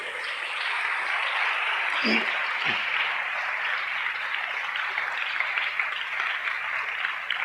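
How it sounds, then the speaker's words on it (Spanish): Dense, continuous applause from a congregation at a Sunday church service, sustained at an even level throughout, with a couple of brief low thumps early on. "Dele un gran aplauso a nuestro Rey,"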